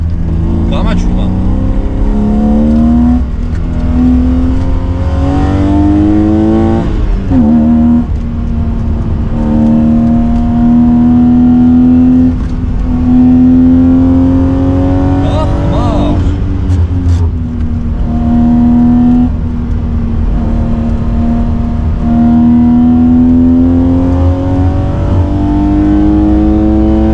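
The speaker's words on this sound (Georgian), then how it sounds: "იმდენად მაგარი ძრავი აქვს ამ მანქანას" A modified BMW 3 Series engine revs hard, its strong tone rising and falling through repeated throttle blips and sustained pulls, loud and close, while someone talks over it.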